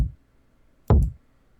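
A single hollow-sounding kick drum sample in an R&B beat, one knocky thud with a short bright click at its attack, fading quickly into near silence.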